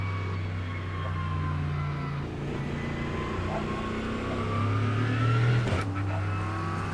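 A GT3 race car in the iRacing sim, an Aston Martin with a Mercedes drivetrain, drones steadily at near-constant revs through a restart, with a brief throttle change and tonal whine, loud and continuous with no talk.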